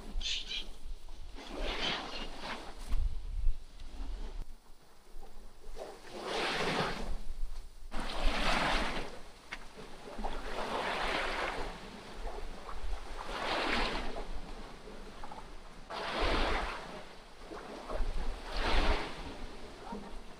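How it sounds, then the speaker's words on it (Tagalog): Sea waves at the shore of Tawi-Tawi, rolling in and breaking in repeated surges every few seconds, loud and close with wind buffeting the microphone between them. "So may dagat dito sa baba."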